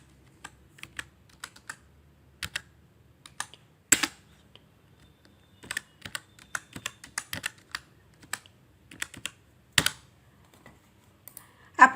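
A Google Form title is typed on a computer keyboard as a quick, uneven run of close key clicks with a few louder taps and no voices.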